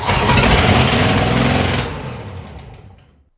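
A 1959 Corvette engine that has sat for 30 years sputters loudly as it tries to start, briefly running rough before dying away into silence.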